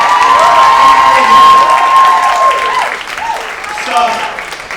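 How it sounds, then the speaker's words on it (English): A comedy club audience applauds and cheers at a live show, loud clapping with whoops while a voice talks over the crowd, fading a little toward the end. "Well, I give it another round of applause."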